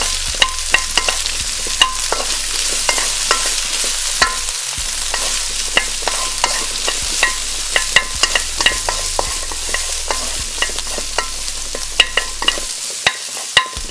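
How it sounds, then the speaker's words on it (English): Capsicum and brown onion stir-fry in oil for a teriyaki pork dish, a continuous loud sizzle punctuated by frequent sharp spatula scrapes and clacks against the pan in an irregular rhythm, up close with no voices. "Another tablespoon of oil and put in the capsicum and the brown onion."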